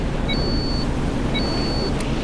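A compartment flooding alarm sounds aboard a Nordland class multipurpose vessel in Stormworks: Build and Rescue, two thin, steady high-pitched beeps about a second apart over a constant rushing background.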